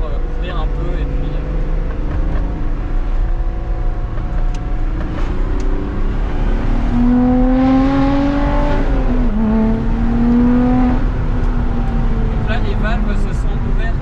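A Lotus Exige 380 Sport accelerates hard to overtake, its exhaust valves opening above 3500 rpm; a loud, rising engine note climbs and holds close, with someone talking over it throughout.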